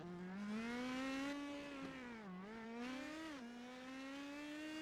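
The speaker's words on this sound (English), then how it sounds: "You could hear him really wind the car up hard on the brakes, wind it up, get hard on the brakes in turn 1 on that pit exit road" A race car in the iRacing simulator revs hard on the pit exit road, engine pitch climbing, dipping twice under braking into turn one, then winding up again, steady and loud with no talking.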